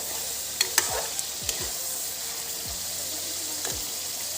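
Masala sizzling in a pan for dhaba-style bhindi masala, a soft steady frying hiss with a few sharp scraping knocks of a spoon stirring, close and fairly quiet.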